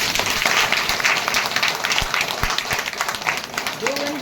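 Congregation at a Christian prayer gathering breaks into loud, continuous applause, a dense crackle of clapping heard close, with voices calling out over it throughout.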